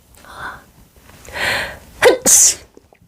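A person sneezes loudly and close after a few building inhales, ending in one sharp, explosive burst followed by a short breathy release.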